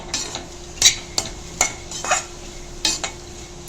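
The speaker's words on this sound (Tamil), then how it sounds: "இந்த அளவுக்கு உப்பு போட்டு நம்ம வதக்கிக்கலாம்." Vegetables with salt being stirred in a pan over low heat, a spoon scraping and clinking against the metal in irregular strokes, close and fairly loud, with no talking.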